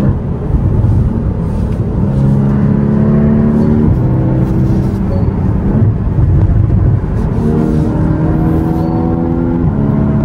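A loud, steady engine drone fills the cabin of a Porsche Cayman S 981 on an open road, with rising and falling harmonic pitch as it revs through the gears, continuous throughout.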